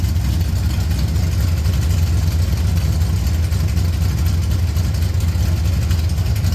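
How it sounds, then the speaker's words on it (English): A Chevrolet Camaro's cammed 6.0-liter LS V8 runs loud and close with a deep, steady rumble, holding high revs throughout without clear rises or drops. "Give us some revs."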